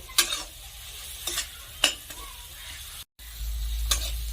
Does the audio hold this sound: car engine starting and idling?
no